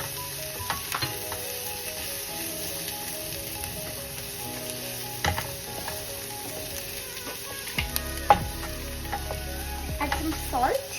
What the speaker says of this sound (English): stir fry it with the garlic